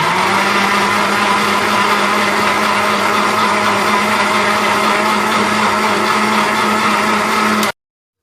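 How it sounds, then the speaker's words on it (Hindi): A blender grinds potato cutlet ingredients with a little water, a loud steady high-speed whir running without pause for about seven and a half seconds before cutting off abruptly. "और इन सबको अभी अच्छे से ग्राइंड करना है।"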